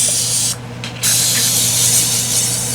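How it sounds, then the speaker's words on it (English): Cooking oil from a spray can hisses into a bowl in two loud, close bursts broken by a brief pause. "I'm going to spray some oil"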